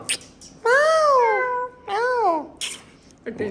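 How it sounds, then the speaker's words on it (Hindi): Realistic cat meow sound effect, two long, clear, wavering meows with strong harmonics, close and prominent, with brief bits of other sound around them. "जो बिल्ली साउंड है ना बहुत रियलिस्टिक लगती है"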